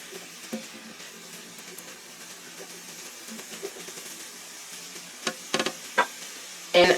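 Seasoned radishes cooking in a pan on the stove, a soft low sizzle with light scraping and stirring knocks that grow louder and more frequent toward the end.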